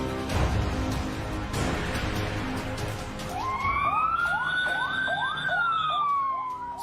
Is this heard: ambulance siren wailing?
yes